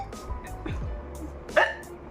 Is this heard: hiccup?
yes